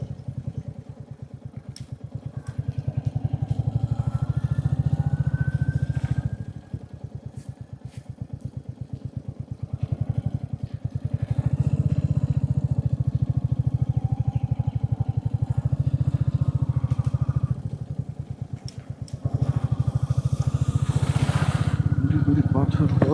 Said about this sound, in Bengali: আমার বাইকের টায়ার স্কিড করতেছে